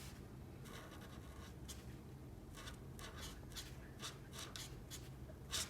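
A marker coloring in a drawing of fries for a Fortnite tacos emoji, giving soft repeated scratchy strokes in short bursts, quiet and close with no talking.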